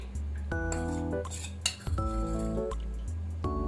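Metal spoon stirring jaljeera and pani puri masala powder into water in a steel vessel, ringing clinks and scraping knocks against the pot in uneven bursts, close and clear with no talking.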